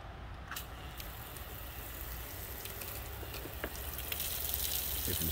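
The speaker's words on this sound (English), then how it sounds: "the water just goes right through the pavers" Water gushes steadily and soaks down through permeable pavers in a renovated backyard, a continuous close wash of flowing noise that grows slightly louder toward the end, with no voices.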